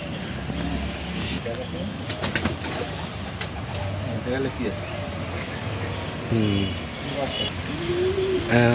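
Madrasi pigeons coo softly in a Kolkata hobby loft, a few low rolling coos surfacing beneath someone talking steadily, with scattered background noise and clicks.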